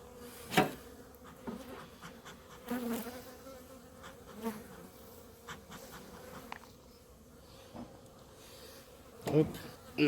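Honeybees drone around a hive in a soft, continuous hum, with occasional louder buzzes as single bees pass near the microphone, plus faint rubbing and handling noises.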